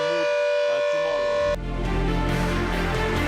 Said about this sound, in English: you can now see the test sirens being done in Firozpur this time